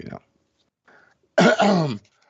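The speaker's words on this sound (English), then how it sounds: "Let me clear my throat." A person clears their throat on a podcast, a short faint grunt and a quieter rasp, then one loud, forceful, gravelly throat-clearing burst lasting about half a second, followed by silence.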